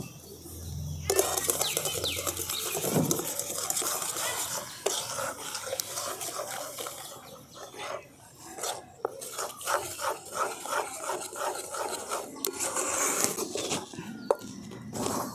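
Rice flour is worked a little at a time into melted sugar with a spoon, producing a long run of rhythmic, gritty scraping and rubbing strokes, close and fairly loud.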